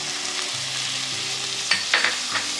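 Sun-dried tomatoes, tomato paste and garlic fry in a pan over low heat with a steady sizzle. A few scraping stirs punctuate the sizzle near the end, and no one speaks.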